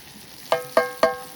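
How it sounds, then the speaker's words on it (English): Spare ribs and sliced onions fry in rendered rib fat in a pan at a camp stove, giving a low background sizzle broken by three sharp, evenly spaced metallic clinks of stirring. "They're cooking in all the fat from this spare rib."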